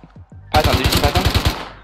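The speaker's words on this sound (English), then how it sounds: "There's other people shooting at him." Rapid automatic gunfire in the video game Rust, on an island beside oil rigs: a loud, evenly spaced burst of about ten shots, after a few fainter, scattered pops.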